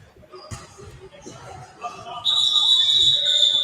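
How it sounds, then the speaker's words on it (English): A referee's whistle shrills during a basketball game between the Hoosier State Instigators and the Louisville Pros, one long sustained blast rising loudly over crowd noise and a commentator's voice. "Whistle called."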